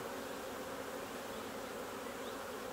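Honey bees on a hive frame being gently shaken off give a steady, dense buzzing drone that fills the whole stretch, close by and even in level with no talking.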